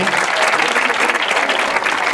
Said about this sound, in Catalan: un aplaudiment per a tota aquesta joventut